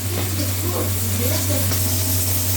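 Small fish frying in bubbling oil in a home kitchen in Hong Kong, a steady close sizzle and crackle running throughout beneath a constant low hum, with a voice faintly present.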